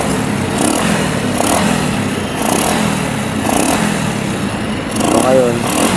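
A motorcycle engine is started and left idling ahead of a carburetor cleaning, a steady close engine drone running through the whole stretch with small periodic surges and speech-like sounds layered over it.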